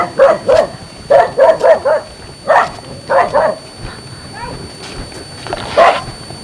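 A dog barks repeatedly at a rural house in Vietnam, sharp bow-wow barks in quick clusters of two and three with short gaps, loud and fairly close over a steady outdoor background.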